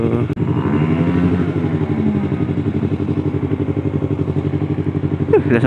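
A Yamaha R15 motorcycle engine runs steadily nearby with an even, throbbing mid-pitched idle, loud and continuous throughout with no voices.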